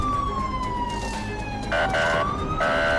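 An ambulance siren wails in an ambulance simulator video game, its pitch sweeping slowly down and then back up, loud and close against steady road and engine noise.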